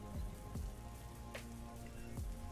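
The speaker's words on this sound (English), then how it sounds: "Little rain in the back." Soft rain patters behind a low music track, faint and steady, with a few deep thudding beats over it.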